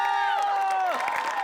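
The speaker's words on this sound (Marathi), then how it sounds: "आणि चीअरलीडर्स साठी एकदा जोरात टाळ्या please." An audience cheers and whoops for cheerleaders at a lively event, with a dense crowd roar across the whole stretch and someone speaking or calling out over it.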